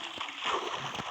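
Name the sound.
character splashing into water in Minecraft video game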